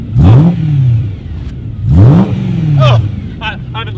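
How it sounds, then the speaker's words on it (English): A BMW M3 V8 with a new Castro Motorsports exhaust revs hard twice in loud, rising bursts, each falling back to a throaty idle, then a few shorter blips and crackles near the end. "It's a V8. It needs a nice exhaust."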